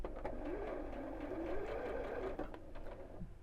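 A sewing machine stitches across the curved top edge of a fabric Christmas cone, a close, steady rapid whirring of the needle running for a few seconds.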